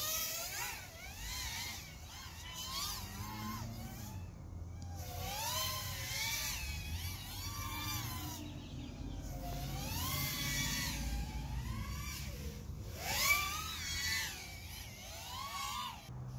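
A 3-inch toothpick racing drone flies close by, its motors whining in high buzzing tones that rise and fall steadily as it throttles up and down throughout, with no talking.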